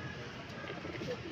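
Racing pigeons are caught and put into baskets for the third lap of a derby, Legazpi, Albay, giving soft cooing and bird calls. Handling noise runs steadily underneath for the full stretch, with voices mixed in.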